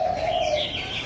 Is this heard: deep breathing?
no